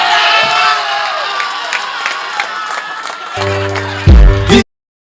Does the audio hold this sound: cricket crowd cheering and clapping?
yes